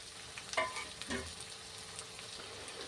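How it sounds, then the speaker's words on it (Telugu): Chicken pieces for biryani fry in a pan with a quiet, steady sizzle and a couple of brief stirring scrapes near the start. "నేను మొత్తం ఒకేసారి వేసి ఫ్రై చేస్తున్నాను"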